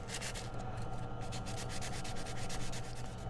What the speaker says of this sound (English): So I can use sandpaper. This is 400 grit. This will also polish up the gold.